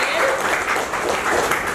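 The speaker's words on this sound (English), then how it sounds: "So big round of applause for all of them for explaining the roles well" A short burst of applause fills a Toastmasters demo meeting at a developer group event, dense, close clapping with some voices mixed in.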